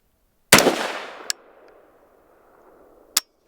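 A single sharp rifle shot from a Law Tactical ARIC rifle loaded with weak ammunition that fails to cycle, a loud close crack with a ringing decay, followed by a small metallic click and another sharp click later, no voices.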